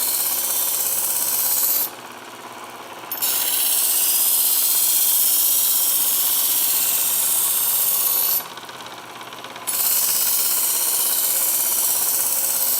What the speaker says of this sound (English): I'm immediately pulling through as soon as I drop that knife into the guide and contact the belt.